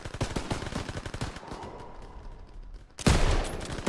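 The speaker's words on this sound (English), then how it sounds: "MGs, open fire." Machine guns open fire in the World War II shooter Call of Duty WW2: rapid, close bursts of automatic fire, a lull of distant shooting, then a loud, sudden barrage near the end.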